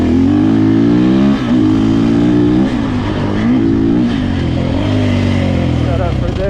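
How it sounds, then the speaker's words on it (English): A 2024 GasGas enduro motorcycle engine revs loudly while being ridden, its pitch rising and falling through gear changes and throttle blips, continuous and close throughout. "By the sound of the bike, you can tell that it's more toned down than the motocross 450 that we also rode."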